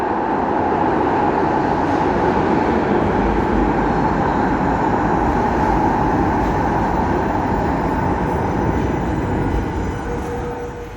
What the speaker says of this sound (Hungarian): Érkezik is a villamos